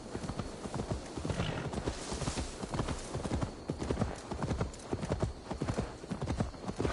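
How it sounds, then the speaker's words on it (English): Horse hooves in Assassin's Creed Valhalla clip-clop in a quick, steady trot, close and continuous, with faint background murmur. "Now to deliver Magni his horse."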